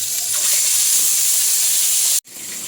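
Marinated baila fish sizzles steadily in hot oil in a wok, a loud, continuous frying hiss that holds unbroken, then briefly cuts out near the end before resuming.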